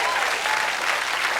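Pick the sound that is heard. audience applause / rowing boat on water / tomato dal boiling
audience applause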